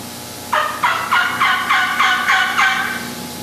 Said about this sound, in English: like an old gobbler in the fall, like right now. Just real slow, almost stops yelping sometimes.